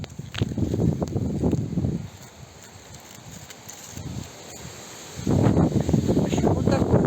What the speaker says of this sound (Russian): В общем, вот такой вот у нас ветер.